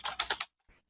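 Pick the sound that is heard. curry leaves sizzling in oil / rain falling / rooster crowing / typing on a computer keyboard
typing on a computer keyboard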